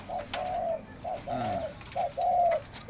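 A pet dove coos up close, giving three soft, low, rolling coos in an even rhythm against a quiet background.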